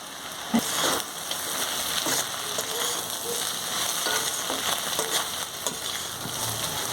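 Chow mein with fried egg and peanuts stir-fries in a pan, giving a steady close sizzle like rain on a surface, broken by occasional scraping stirs and a single clink, with no voices.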